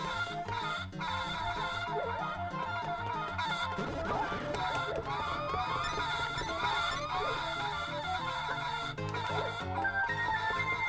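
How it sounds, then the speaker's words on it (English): Chickens in The Legend of Zelda: Four Swords cluck and squawk faintly over a busy, constant layer of game music and effects, with no voices heard. "A couple chickens."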